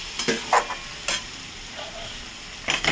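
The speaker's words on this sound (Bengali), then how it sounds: "আবারও কষবো এটাকে ভালোভাবে" Spiced potatoes with chilli powder are stirred and fried in a pan for a vegetarian cauliflower, potato and paneer dish: a soft sizzling bed under a few sharp, close scraping strokes of the spoon.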